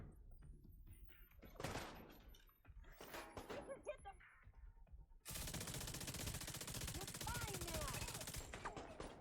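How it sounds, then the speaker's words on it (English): Gunfire in the shooter game The Division 2, sharp scattered shots early, then a sustained loud burst of automatic fire, with a voice talking in between. "Where are we being shot from?"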